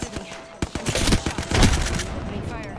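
Gunfire from the video game Apex Legends comes as rapid, dense bursts of loud automatic shots overlapping with in-game effects, with a voice speaking briefly in the mix.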